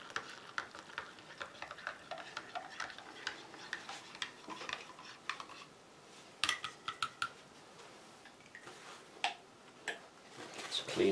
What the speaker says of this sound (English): And we'll bring in a US MRE spoon. Let's give that a